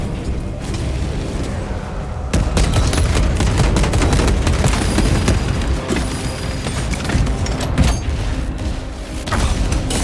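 Heavy, sustained gunfire from the Space Marine 2 video game roars almost nonstop, with loud crackling bursts and booming impacts layered over mechanical clatter.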